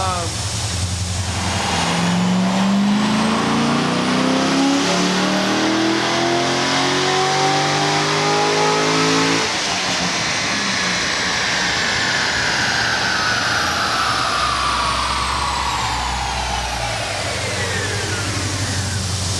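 A Procharged 2018 Camaro SS 1LE with an F1A-94 supercharger revs hard on a dyno, its engine note climbing loud and continuous, then winding down with supercharger whine trailing off.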